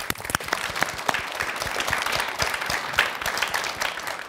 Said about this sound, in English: Please big applause to them.